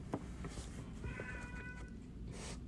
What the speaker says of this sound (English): you can probably hear my cats and my dogs in the background